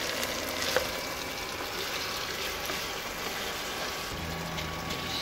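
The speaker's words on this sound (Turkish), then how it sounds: "Biraz daha kavurma işlemine devam ediyoruz." Garlic and meat frying in a pot for an onion stew, giving a steady, close sizzle that runs without a break and has no talk over it.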